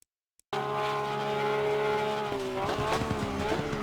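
A Porsche GT3 R race car, the 2018 model, revs hard around Monza in Assetto Corsa Competizione. The engine note bursts in after a moment of silence, then holds a loud, steady drone, with gear shifts and rising revs near the end.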